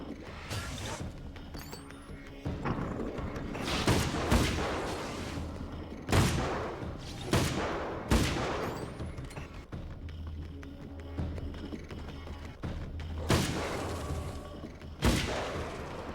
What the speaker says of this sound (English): Oh, I can shoot lots faster.